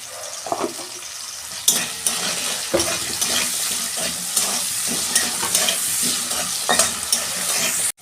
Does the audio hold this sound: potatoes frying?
yes